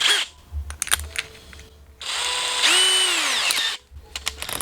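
A drill driver spins a deburring bit inside and around a copper pipe end during a gas condensing boiler installation, giving bursts of whirring motor with a rising-then-falling pitch and scraping, close and loud, with pauses between runs.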